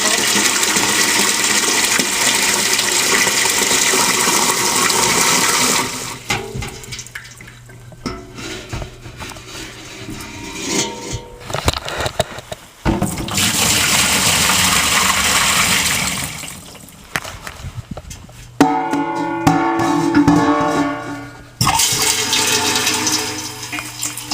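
Water repeatedly dumped from a container into a plastic bin for a DIY aeroponics garden, loud gushing pours separated by quieter handling clunks and sloshes, several pours over the stretch.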